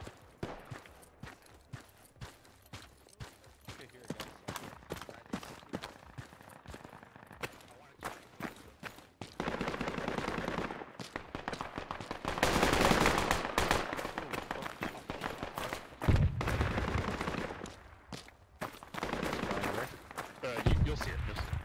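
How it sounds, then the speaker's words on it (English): Bursts of rapid gunfire in the video game Project Reality crackle and pop throughout, some close and loud, others distant, amid footsteps and occasional talk. "I'm hearing gunfire contacts near squad 8."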